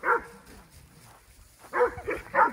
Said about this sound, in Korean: 흥분하는 개는 저기 지금